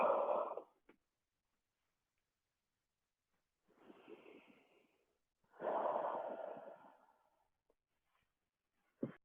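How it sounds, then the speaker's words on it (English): Deep breaths drawn in and out during a yoga session, slow airy inhales and exhales in a few separate bursts with near silence between, close and fairly soft. "Breathing in and out."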